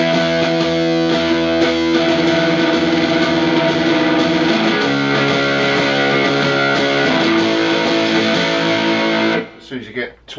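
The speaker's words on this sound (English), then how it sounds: "you're definitely getting that fuller distortion sound" An electric guitar through a TC Electronic Grand Magus distortion pedal rings out with thick, sustained chords and a buzzing, saturated tone, loud and continuous before abruptly cutting off near the end.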